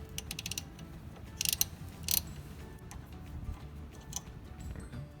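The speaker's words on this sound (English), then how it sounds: "Now we can go ahead and break loose the top bolt here." A ratchet clicks as the top brake caliper bolt on a 2005 Honda Pilot is broken loose, giving a quick series of close metallic ticks and a couple of sharper clacks over faint background noise.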